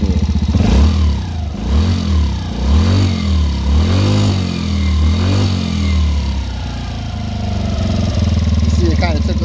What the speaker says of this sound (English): I turned it in very slowly until it got to a real high idle